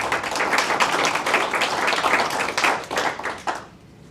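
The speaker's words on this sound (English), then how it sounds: "let's give a round of applause to this group" An audience applauds a construction company group, with close, crisp hand claps building into a dense patter. The clapping fades out near the end into quiet.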